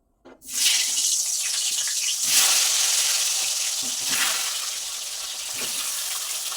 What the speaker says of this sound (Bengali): আলুগুলো ভেজে নিই কারণ জল ছিটাচ্ছে